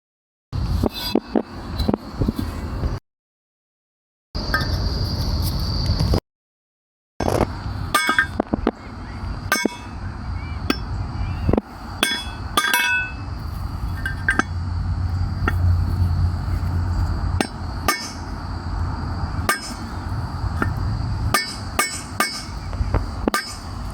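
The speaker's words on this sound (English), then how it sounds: "The tools required are a hammer and a medium-sized chisel or pipe that can fit into the diameter of the existing bushing." A hammer drives a medium-sized chisel or pipe against a front wheel bushing on a lawn tractor, giving many sharp, close metallic strikes in an irregular rhythm, with short pauses and ringing clinks between blows.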